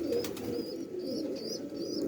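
A large Teddy breed pigeon coos in a low, continuous murmur close by, while thin bird chirps flicker faintly above it.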